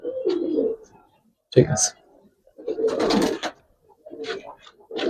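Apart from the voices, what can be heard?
Giribaz and Pankhi pigeons cooing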